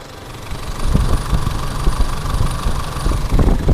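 A 2007 Isuzu D-Max 2.5 SLX pickup idles up close under the open hood, a steady rumbling drone with a slightly knocking, uneven pulse and no talking.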